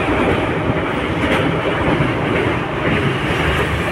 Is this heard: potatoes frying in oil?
no